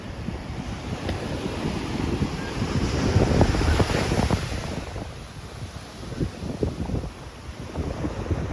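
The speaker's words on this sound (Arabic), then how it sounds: "كاين البرد، كاين الموج طالع شويه، ما كيقدروش يدخلوا اليوم" Rough sea waves surge at the harbour entrance in Oualidia, rising and falling in heavy washes mixed with strong wind buffeting the microphone.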